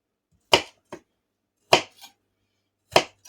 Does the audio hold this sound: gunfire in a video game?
no